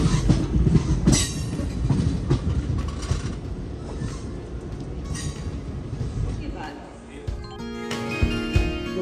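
A train at a railway station on a journey toward Darjeeling, with steady rumbling and clattering carriages throughout and brief higher metallic squeals, close and fairly loud.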